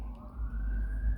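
A siren wails outside, a steady rising tone with a low rumble beneath, moderately loud and continuous for a moment with no talk.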